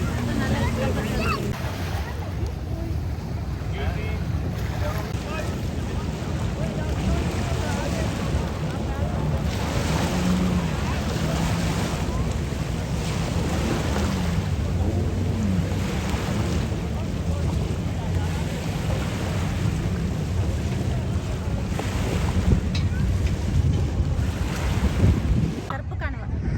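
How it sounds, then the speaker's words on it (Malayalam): A boat runs over sea waves near Bluewaters Island in Dubai, with continuous close wind buffeting and the wash of water and surf throughout, and faint voices in the background. "ആ ബോട്ടിൽ കയറി തട്ടിയിട്ട് കൊണ്ട് പോവാണ്."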